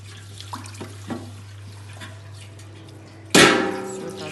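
A kitchen water tap rinses a greasy baking tray that has been scrubbed with a cleaning cloth: a low hum and a few soft clinks of the tray, then the faucet suddenly gushes on loud and close.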